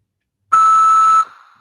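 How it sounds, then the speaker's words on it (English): A single steady electronic beep from an automated phone system, loud and clean, holding for under a second before cutting off into faint line hiss. "At the beep, repeat the phrase."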